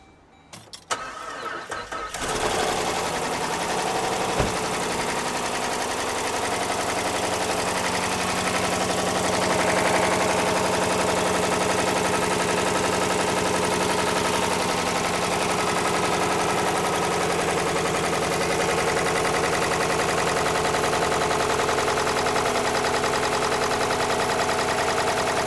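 A Jeep engine cranks and catches in the shop, then settles into a loud, steady idle that runs on unbroken with a faintly uneven, rough undertone and no talking.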